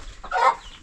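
Chickens cluck inside a chicken house on a farm, one bird's call rising loud and close in a short burst, with quieter poultry murmuring around it.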